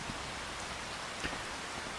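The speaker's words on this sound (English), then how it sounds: "What could we do while it's raining?" Steady rain hiss in the Farming Simulator 25 video game, an even wash of fine patter lasting a couple of seconds with one small tap partway through and no voices.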